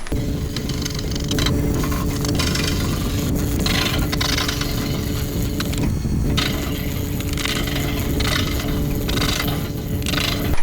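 A large rosewood bowl turns on a wood lathe at about 450 RPM, giving a steady, continuous mechanical hum and whir. Scraping and rubbing textures come and go over it, and no voices are heard.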